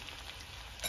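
Dried oregano hitting hot oil in a pan for pink pasta, a faint, soft, continuous sizzle with a slightly sharper crackle right at the end.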